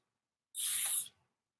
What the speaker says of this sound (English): Anything you touch afterwards, spray your gloves down.